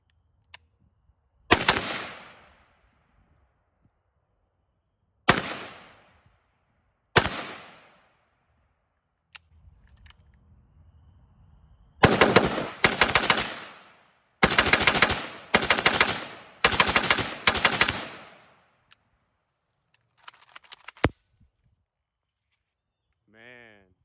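AK rifle fitted with a CMC 2lb elite trigger firing outdoors: a few single sharp shots, then several fast strings of loud rapid shots separated by short pauses.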